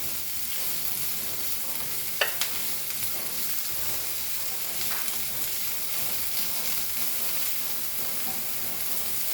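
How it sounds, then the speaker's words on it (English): Green pork fries in a pan with a constant close sizzle, a couple of sharp utensil knocks early on, steady and unbroken throughout with no talking. "Fry this."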